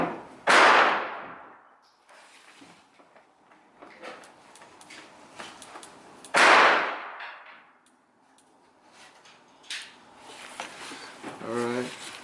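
Two sharp, loud rifle shots ring out outdoors several seconds apart, each with a trailing echo, followed by quieter handling noises and brief talk.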